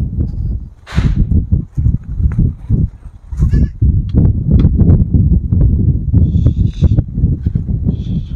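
Several goats bleat in short bursts, close by, over rustling and low background rumble.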